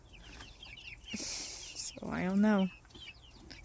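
A hen lets out one loud, drawn-out squawking cluck in a backyard flock, rising over a conversation that runs before and after it.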